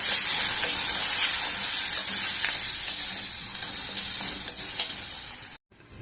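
Tomato and onion frying for a brinjal masala curry, a steady close bright sizzle with stirring scrapes running throughout, cutting off abruptly near the end.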